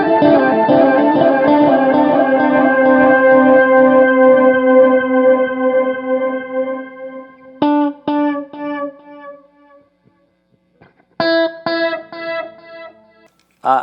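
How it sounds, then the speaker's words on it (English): Synthesizer run through an EHX Canyon delay pedal in shimmer mode, a loud sustained note blooming with bright upper harmonics that slowly fade, then short plucked notes echoing in clipped, repeating bursts. "here's the Shimmer"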